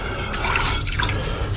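Liquid holding jewellery-refining residue is poured into a beaker, a close, bright trickle and splash that runs for just over a second.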